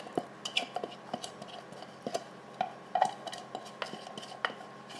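Chopped peppers drop into the pot of a Ninja Speedi, making a run of soft, close clatters and light knocks of food and utensil against the pot, fairly quiet and irregular.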